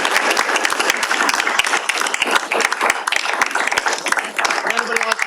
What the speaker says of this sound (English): Let's hear a round of applause, please.